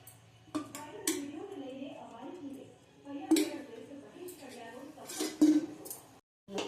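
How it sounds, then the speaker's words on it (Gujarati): A wok is set on a gas stove and oil is added while cooking ajwain leaf greens, with a few sharp metallic clinks and clatters scattered under a person speaking. "ગેસ ઓન કરીશું અને એની માથે કઢાઈ મૂકીશું અને એમાં નાખીશું આપણે તેલ।"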